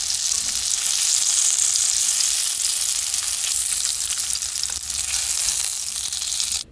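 Hot dog sausages frying in a pan, a loud continuous bright sizzle and crackle that holds steady throughout before cutting off abruptly at the end.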